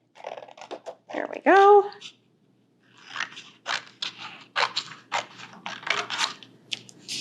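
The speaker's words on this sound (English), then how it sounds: "So now I'm going to cut out that triangle we just drew." Scissors snip through paper to cut out a drawn triangle for a craft, a series of close, crisp cuts following a brief spoken remark.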